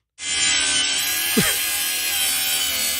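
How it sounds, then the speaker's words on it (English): A fire department power saw cutting through a metal chair to free a trapped foot, a loud continuous grinding whine held steady throughout, close and harsh, with a brief squeal partway through. "They're using a saw to cut the metal."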